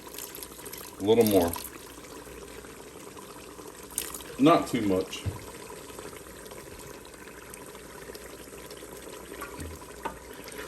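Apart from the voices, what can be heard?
orange juice poured into a reduced cooking liquid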